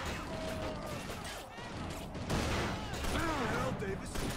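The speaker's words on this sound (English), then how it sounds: "Yeah, I shot a civilian." Gunfire in the video game Inversion as a civilian is shot, with sharp bursts of shots and crashing game action under a busy mix, alongside talk throughout.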